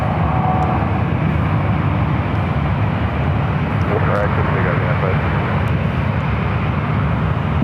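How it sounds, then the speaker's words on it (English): Southwest Boeing 737-700 arriving at San Francisco from Las Vegas, heard as a loud, continuous jet engine roar with low rumble. A voice speaks over the noise. "Southwest flight coming up from Las Vegas in the 737-700"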